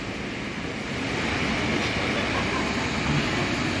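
Jabodebek LRT light rail train at a busy station platform on an afternoon, a steady loud rumble of rail wheels and carriages close by that swells slightly as it continues, with no speech.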